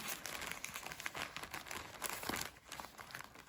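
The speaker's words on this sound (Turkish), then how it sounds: "Bir paketimiz var. Açalım" A package is opened, its plastic wrapping crinkling and crackling in quick, close, continuous rustles with a few tearing bursts.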